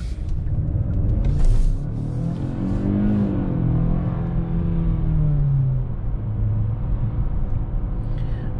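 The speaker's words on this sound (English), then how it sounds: "Let's go ahead and put the car in sport mode" A 2021 Genesis G80 with a 2.5-liter four-cylinder and 8-speed automatic accelerates in sport mode, its engine rising steadily in pitch with audible upshifts over a constant road rumble heard from inside the cabin.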